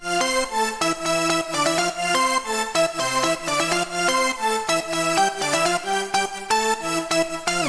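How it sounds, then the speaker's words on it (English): Dense electronic dance music plays with pulsing synth chords and a driving beat, loud and continuous, with no voices. "So the drop sounds like this."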